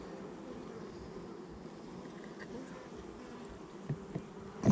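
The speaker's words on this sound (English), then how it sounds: "Almost squished a bee there." Honeybees buzz steadily around the hive frames during an inspection of emergency splits, a soft continuous hum from insects close by with a couple of faint knocks near the end and no talk.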